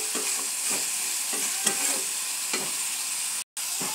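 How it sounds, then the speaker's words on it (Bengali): Spice masala frying in hot oil in a pan, a steady bright sizzle with repeated scraping stirs at an even rhythm, close and alone with no talk, plus one brief dropout near the end. "দেখুন আমার মশলাটা কষানো হয়ে গেছে, উপর দিয়ে তেল ছেড়ে দিয়েছে"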